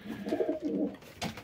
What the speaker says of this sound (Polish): Bo te gołębie są takie piękne